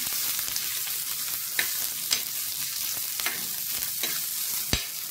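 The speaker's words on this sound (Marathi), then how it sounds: "थोडेसे भाजून झाले की आपण याच्यामध्ये थोडंसं तेल टाकून परतून घ्यायचं." Onion stir-fried in a little oil for Maharashtrian chana masala, a steady close sizzle with a few sharp scrape knocks of the spoon against the pan, no talk.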